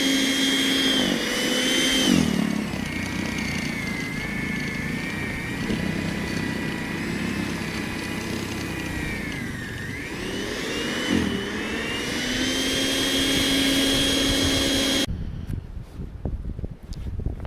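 An electric snow blower runs with a steady whooshing motor drone, like a big hair dryer, its pitch sagging and recovering briefly as it bites into snow, then cutting off near the end.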